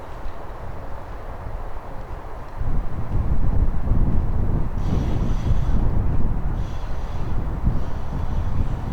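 Wind blows across an outdoor disc golf course, a steady rough rumble of gusts buffeting the microphone that grows louder partway through.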